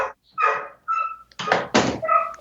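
Dogs whimper and yelp near a door at a Walt Disney World campground, short whines broken by a couple of sharp thunks as the door is pushed shut, close and fairly loud.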